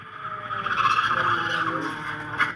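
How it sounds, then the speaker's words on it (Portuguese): A motorcycle's rear brake locks and the tire skids on the road. The screech is sustained, rising and fading over a couple of seconds, with engine noise beneath it. "E a chamada do freio traseiro aqui, ó. Ó, escuta, escuta."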